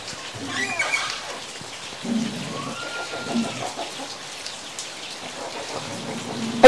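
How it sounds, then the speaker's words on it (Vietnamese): Heavy rain pours steadily onto surfaces outdoors during farming season, a dense continuous hiss with scattered drip patter, a brief faint tone in the middle and a sharp knock at the very end. "Vừa ra đến nhà của các em thì là mưa luôn cô bác ạ."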